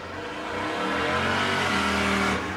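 Number 17, an autocross race car running on an ice track at a Glenwood, Minnesota fairgrounds, snarls through a sustained loud rev with rising and falling engine pitch and tire hiss, heard up close without voices.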